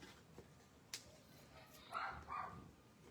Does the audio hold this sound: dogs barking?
yes